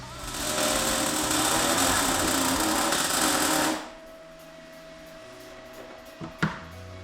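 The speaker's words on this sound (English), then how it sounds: "now for the last two welds, which are basically T-joint 1/8 inch to 3/16" A MIG welder lays a weld on a steel T-joint of 1/8 to 3/16 inch plate, giving a loud, steady crackling buzz for nearly four seconds that cuts off into a low room hum with a brief knock afterward.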